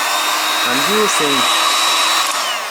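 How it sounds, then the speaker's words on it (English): A heat gun blows hot air to dry a cleaned sensor from a 2001 to 2009 Toyota Prius, making a steady, close, loud rushing roar that holds throughout with no talk. "for that we need heat gun what generates hot air"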